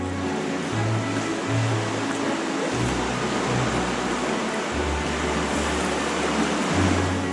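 Ocean waves roar and surge continuously inside a sea cave, with a deep, booming resonance underneath. No voices are heard.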